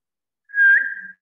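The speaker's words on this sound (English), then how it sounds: "I hear you whistle." A child whistles a single short note, clear and close, rising briefly and then wavering before stopping, alone against silence.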